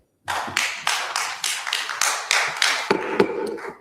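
An audience at a city council meeting breaks into clapping, a steady run of rhythmic, fairly close claps that carries on for several seconds without any talk.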